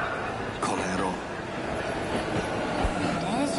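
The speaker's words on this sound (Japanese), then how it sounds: "電車来たし。" A train pulls in within the video game 13 Sentinels: Aegis Rim, its rumbling rail noise and metallic screeches mixed under voices talking.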